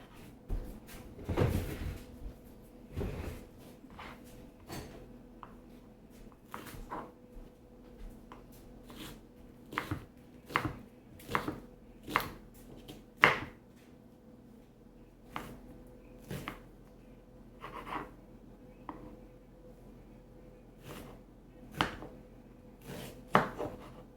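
An onion being chopped with a knife on a board during a home chili cook, heard as irregular sharp knocks spread across the clip with short pauses between them, fairly quiet and close, with no talking.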